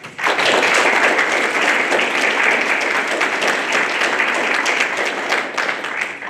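A symposium audience breaks into a sustained round of applause, dense clapping from many hands filling the room steadily from start to finish.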